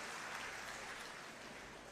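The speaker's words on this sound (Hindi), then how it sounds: "एक बार जोरदार तालियां इनके साहस और पराक्रम के लिए बजा दीजिए।" Crowd applause at a political rally for an Aam Aadmi Party leader, a steady dense wash of clapping from a large gathering, fairly distant and even in level, continuing without pause and with no voices standing out.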